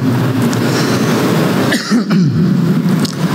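A single harsh cough breaks through a steady background rumble during a pre-iftar religious lecture, brief and close, with murmuring noise around it.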